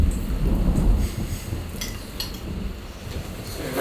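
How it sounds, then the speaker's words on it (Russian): Heavy downpour with thunder at a base in Yakutia, a dense wash of rain with deep low rumbles swelling early and fading, plus scattered sharp drops striking a surface nearby. "Сразу после приезда на базу начался проливной дождь."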